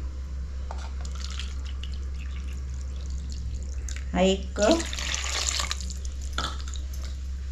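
Water is poured by the cup into a pot holding ghee for a shankarpali dough. Two brief splashing pours sound close by, with a person talking between them over a low background hum.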